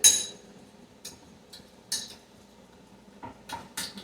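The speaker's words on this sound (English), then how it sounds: "I'm using another spoon now. Let's mix all that in." A metal spoon clinks and scrapes against a dish as food is mixed in a home kitchen, with several sharp, close strikes spaced irregularly and no talking.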